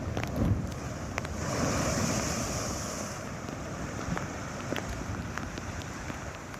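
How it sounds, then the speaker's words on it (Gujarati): Rough sea with waves over ten feet high crashes along the Alang coast, a steady roaring surf mixed with wind buffeting the microphone, with no speech. "દરિયામાં 10 ફૂટથી વધુ ઊંચા મોજા ઉછળતા જોવા મળ્યા"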